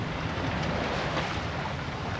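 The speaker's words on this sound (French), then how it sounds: "J'entends son moteur depuis super loin, je ne le voyais même pas venir." A motor shuttle boat running between Saint-Barthélemy and Saint-Martin approaches from far off, its engine a faint, steady low drone under wind noise at an anchorage.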